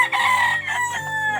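Close, loud rooster crowing fills a backyard chicken coop at an old house, one sustained call lasting the whole moment, with other hens faintly in the background and no voices.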